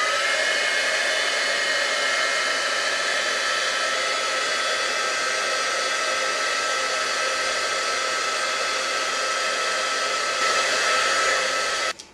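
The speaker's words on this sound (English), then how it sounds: "and then you're going to get your heat tool" Continuous loud whoosh of an embossing heat tool blowing hot air onto a tile-protected craft surface, steady and close for about twelve seconds before cutting off abruptly at the end.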